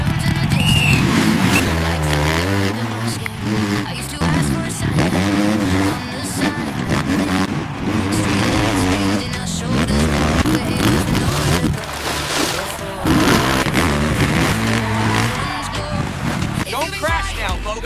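Motorbikes racing in an animated championship, engines whining and revving continuously at close range beneath constant excited talking.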